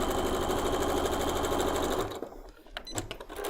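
Sewing machine stitching through quilt block fabric, a steady rapid whir for about two seconds before stopping, followed by faint handling noises.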